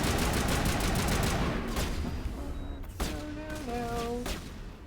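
Rapid gunfire in the Mass Effect Legendary Edition video game, a dense sustained fusillade that gives way to separate shots and tonal electronic weapon sounds, loud and continuous throughout.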